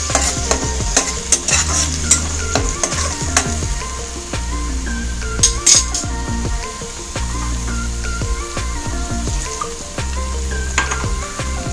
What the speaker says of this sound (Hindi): अच्छे से भूनूंगी। ये जो कच्चा इसका बास है ना, वो चला जाना चाहिए।